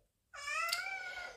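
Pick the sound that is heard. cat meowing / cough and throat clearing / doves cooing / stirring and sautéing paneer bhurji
cat meowing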